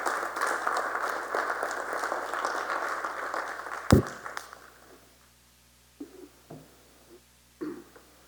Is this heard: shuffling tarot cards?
no